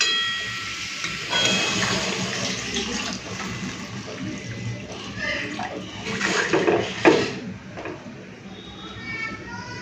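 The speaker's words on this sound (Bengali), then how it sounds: "এখন দিয়ে দিচ্ছি জল।" Water pours into a pan of fish curry with tomatoes, potatoes and taro, a splashing rush that swells and fades over several seconds while a person talks.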